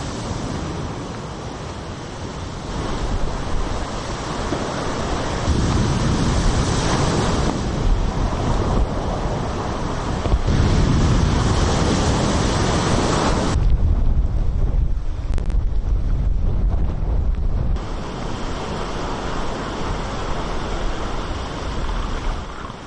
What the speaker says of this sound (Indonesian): topan Hinamnor menerjang Korea Selatan dan menyebabkan hujan lebat dan angin kencang